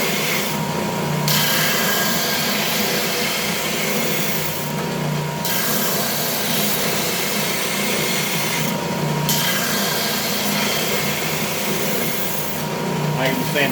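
A Ridgid belt/spindle sander works yellow pine with 180 grit paper, giving a steady loud whirring grind with abrasive hiss that eases briefly at a few points as the wood is lifted off the belt.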